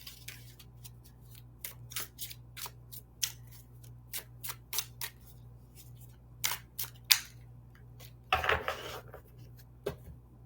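Tarot cards shuffled and drawn from a deck, heard as a run of crisp, close snaps and flicks spaced irregularly, then a brief dense riffling burst near the end over a low steady hum.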